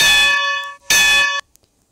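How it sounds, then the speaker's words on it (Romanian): A steam locomotive bell in a train simulator game rings twice, two loud, bright metallic clangs with rich ringing overtones, each held briefly then cut off, with silence after. "Aici e clopoțelul."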